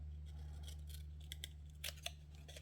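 Scissors snipping flaps in paper or card for a DIY mini mug, several quick close snips scattered over a faint low hum.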